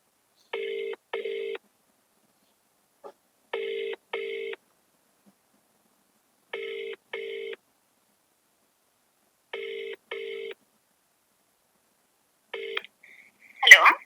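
A telephone call being placed: paired electronic ringback tones repeat at regular intervals, separated by silence, followed at the end by a brief burst as the line connects.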